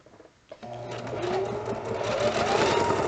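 A sewing machine stitches elastic into a fabric face mask, starting after a few soft handling sounds and then running in a steady, close, rhythmic whir to the end.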